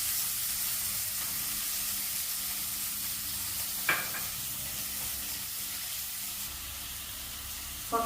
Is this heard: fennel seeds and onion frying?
yes